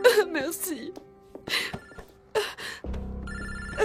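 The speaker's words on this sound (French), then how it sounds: "C'est ton portable. Tu veux que je l'éteigne?" A mobile phone rings with a repeating electronic ringtone, interrupted by bursts of other sound before a steady tone takes over at the end.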